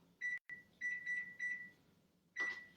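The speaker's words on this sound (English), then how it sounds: "I'm just setting that kitchen timer" A kitchen timer on a quick cooker beeps in a string of short, bright electronic tones while it is being set, with brief gaps between, then one final beep; close and clear in a quiet kitchen.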